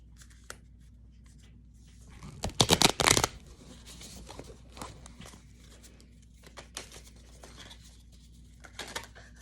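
Close, crisp riffle of a deck of cards being shuffled in one loud burst, followed by scattered soft card taps and slides in a quiet room.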